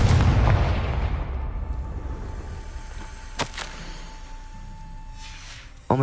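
Confringo fire spell blasting in the Hogwarts Legacy video game: a heavy booming burst at the start that rumbles and decays, followed by a sharp crack midway and another hit right at the end.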